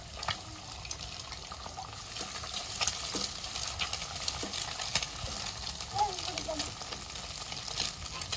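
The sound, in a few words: onion, green chilli and egg frying in a wok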